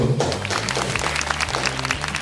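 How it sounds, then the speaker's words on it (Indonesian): Applause from an audience at a prize draw after a woman wins an electric motorbike, dense and loud, with a low musical hum underneath throughout. "Beri tepuk tangannya untuk Ibu"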